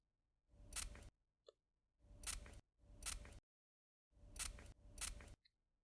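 A spray bottle fires five sharp, hissing spritzes in irregular bursts, close up, separated by near silence with faint clicks between them.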